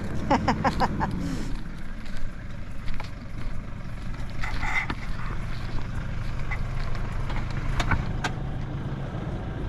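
A vehicle drives the rough Mount Pinnibar track in the Victoria High Country, its engine a steady, close rumble with jolts and rattles throughout, and brief voices heard now and then underneath.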